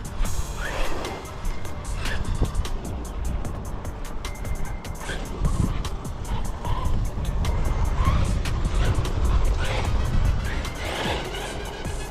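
A Team Corally Kagama RC car with a Hobbystar power combo drives on its first run, giving a continuous, loud whirring motor and tyre rush that rises and falls for several seconds with no talking.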